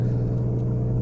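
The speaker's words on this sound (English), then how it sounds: "the mod truck that I am in, it's been modded even further, so don't expect the same sound from Creechbaum's engine pack" Heavily modded truck engine from Creechbaum's engine pack in American Truck Simulator, a steady low diesel rumble holding a constant drone throughout the short moment, loud and close with no talk over it.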